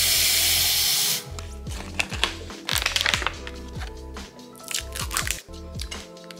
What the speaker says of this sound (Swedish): Så först så ska man börja med att fylla flaskan med vatten.